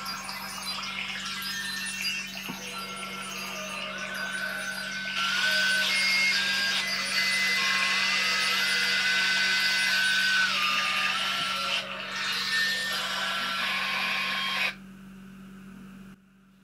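A ringtone built from stove beeps, a sequence of steady electronic tones shifting pitch over a constant hum, stopping near the end.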